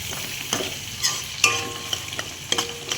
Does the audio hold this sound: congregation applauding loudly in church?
no